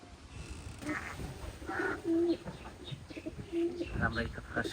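Soft, low pigeon coos repeat in short bursts, with voices murmuring nearby.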